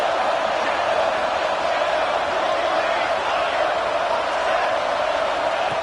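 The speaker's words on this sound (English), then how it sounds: "the crowd really making some noise now, trying to help out this defense to get this stop near the goal line" A stadium crowd at a college football game, USC vs SMU in a video game, makes a dense, continuous roar at a steady high level as the home fans try to help the defense stop a play near the goal line.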